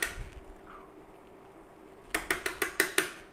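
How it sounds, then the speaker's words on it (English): A pot of macaroni beef gets tomato paste spooned in, with a quiet start, then a quick run of six sharp metallic clinks of a spoon against the pot, close and fairly crisp. "Now we want to put in 2 tablespoons of tomato paste."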